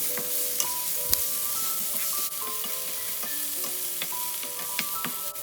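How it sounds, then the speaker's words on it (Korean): Onions and mushrooms stir-fry with minced garlic and a little salt in olive oil in a pan, a constant bright sizzle punctuated by scattered clicks and spatula taps, with no talking. "마늘이 볶아지면 양파와 버섯을 넣고 소금으로 약간 간한 다음 볶아주세요"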